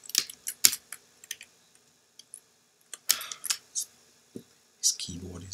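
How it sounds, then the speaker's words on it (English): Irregular clicks and short bursts of keystrokes on a computer keyboard, fairly close and faint, with pauses between clusters and a brief low murmur near the end. "this keyboard is a bit strange"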